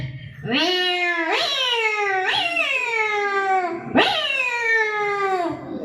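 Someone imitates a cat at a school mimicry competition, giving four loud, drawn-out meows one after another, each rising then sliding down, close and alone.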